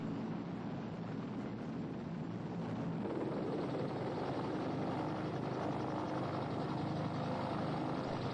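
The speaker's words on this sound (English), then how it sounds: "helicopters now shuttling back and forth to the American fleet" A steady, loud drone of helicopters shuttling to the American fleet during the fall of Saigon, with a fast rotor chop, holding constant throughout with no voices.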